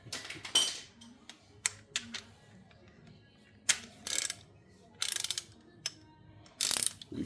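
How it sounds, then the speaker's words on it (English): Torque wrench ratcheting while a bolt is tightened, a series of short clicky ratchet bursts with brief pauses between strokes, quiet and close with no talking. "You set your torque wrench to about 60 pounds."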